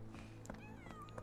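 A cat in the Sherlock Holmes The Awakened video game gives a few soft, drawn-out meows, faint and set against a low ambient game hum.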